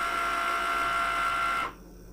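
A Cricut Maker cutting machine whirs steadily with a motor tone while positioning its cutter for applique fabric, then stops abruptly, leaving a faint background hum.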